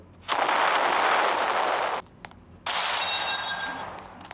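A bomb goes off inside a grave in a video game, a loud, close roaring blast lasting nearly two seconds, followed after a short gap by a second long rushing burst.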